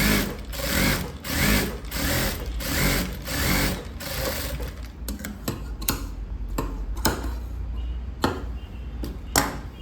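A sewing machine stitches piping onto a blouse sleeve in close, rapid rhythmic bursts, then shifts to slower, separate clicks and taps.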